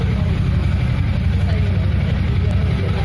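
A Jawa Classic motorcycle idles nearby, its exhaust giving a steady, loud, low rumble that holds an even beat for the whole stretch with no revving.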